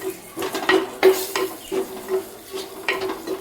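A spoon stirs fenugreek powder in a cooking pan, giving a series of rhythmic scraping and clinking strokes over a faint low sizzle, close and moderately loud.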